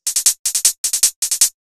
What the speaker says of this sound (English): the percussion is always driving with either a straight 16th note rhythm or a classic train shuffle